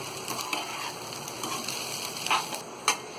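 Poha with salt is stirred in a frying pan, giving a quiet, continuous scrape and sizzle with a few sharp clicks of the spoon against the pan.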